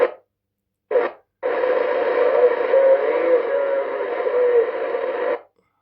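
Static from an 1980s CB radio hisses in two brief bursts, then settles into a steady, fairly loud band of noise with faint warbling tones before cutting off.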